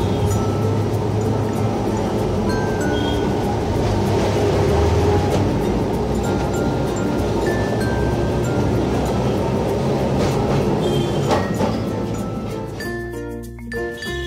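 A Kolkata tram rumbles steadily along its tracks through the Shyambazar area with a continuous low roar and rattling, a faint bell-like ding, and metallic clatter toward the end.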